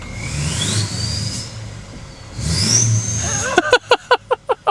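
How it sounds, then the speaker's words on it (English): A Duramax L5P diesel truck engine revs twice in a strong rising surge, with a clear turbo whistle climbing over the deep engine roar, then a quick run of sharp rhythmic pulses at the end. "But you can really hear the turbo now."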